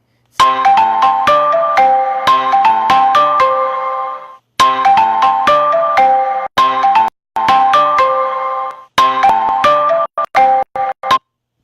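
A loud melodic phone ringtone plays close up, its bright repeating tune cycling in several bursts before cutting off in short choppy fragments.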